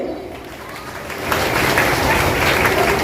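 An audience at a children's welfare organisation's ceremony honouring high-achieving students breaks into applause. The clapping swells after a brief lull and then carries on as a dense, steady crowd sound, with some voices mixed in.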